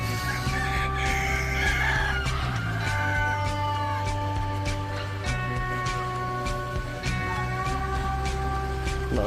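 Native chickens on a farm in Sohar, Oman, cluck steadily with a rooster crowing among them, loud and close, a busy continuous flock of overlapping calls.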